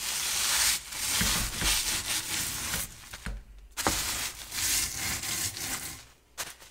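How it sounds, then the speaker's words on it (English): A rolling pin rolls over a plastic bag of gluten-free cereal, crushing it toward breadcrumbs. The crunching and rustling comes in continuous rubbing passes, loud and close, with brief pauses between strokes. "take your rolling pin and roll over the bag until your cereal is really fine"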